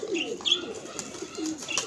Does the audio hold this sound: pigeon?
yes